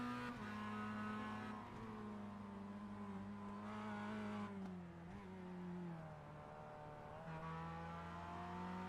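Mazda MX-5 race cars in a sim racing game, engines droning and revving through a chicane and corners, steady close engine tone with pitch rising and falling as gears shift, no talk.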